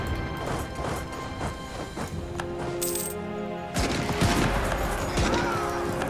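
Battle gunfire in the strategy game Europa Universalis IV: a dense crackle of musket volleys and clashing impacts runs continuously at moderate loudness, swelling briefly louder toward the end, with no voices.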